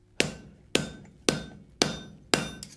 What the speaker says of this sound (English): And I wanna start hammering this